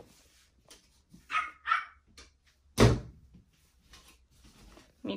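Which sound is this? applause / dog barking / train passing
dog barking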